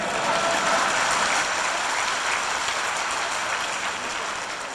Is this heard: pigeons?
no